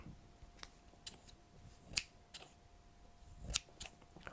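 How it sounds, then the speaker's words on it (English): Scissors snip off excess origami paper to square it, a few sharp, quiet cuts spaced irregularly over a soft, hushed background. "we will snip off the excess here, just cutting along here"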